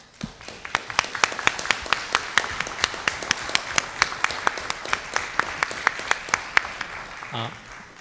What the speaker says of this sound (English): all of the organizations putting together this together deserve a round of applause